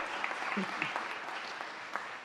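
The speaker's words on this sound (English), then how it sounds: "you can give her a round of applause, she deserves it" A round of applause from a crowd at a Los Angeles city budget event, honoring the chair, with steady massed clapping and a few sharper claps standing out, a voice faintly underneath.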